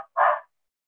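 A dog gives a single short, sharp bark, fairly close and alone against silence.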